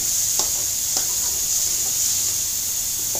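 Meat with turmeric, garlic and ginger sizzles steadily in a pan for a bitter gourd curry, while a few soft stirring scrapes sound over the constant frying hiss.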